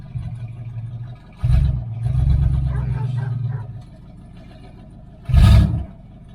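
A 1978 Dodge Aspen R/T idles and shifts into gear, its low engine hum rising briefly in a couple of short revs with a soft clunk, close by and moderately loud.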